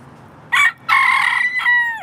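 A rooster crows loudly and close by, a short opening note followed by a long sustained call and a falling final phrase, with no talking.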